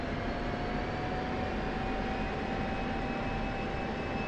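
Steady, loud jet engine roar from a combat aircraft in the DCS flight simulator, a dense continuous rumble and hiss with a faint high whine and no voices.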